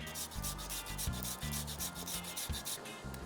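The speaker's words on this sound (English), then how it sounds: "Just grating about a tablespoon of ginger." Fresh ginger, unpeeled, is rubbed against a grater in a home kitchen, a rapid rhythmic scraping of short strokes, close and steady, with no talking.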